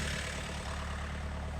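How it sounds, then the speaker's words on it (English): A tractor with an Aera-Vator attached idles on a lawn, giving a steady, continuous low engine rumble close by with no talk. "This is the Aera-Vator here behind the tractor."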